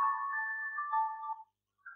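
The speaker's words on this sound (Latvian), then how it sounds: "Tā, kas man zvana?" A phone's ringtone plays an incoming-call melody, a steady tonal tune for about a second and a half. It breaks off briefly before resuming, loud and close, with no talking over it.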